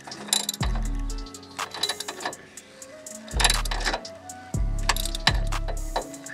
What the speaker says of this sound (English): I'm gonna put it on a swivel and start loosening them off.